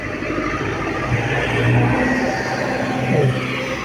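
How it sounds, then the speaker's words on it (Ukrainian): A tractor engine working a vegetable garden plot in a rural yard, a steady mid-range motor drone with slight rises in revving, continuous and fairly close throughout. "Вот трактор заехал, огород делает."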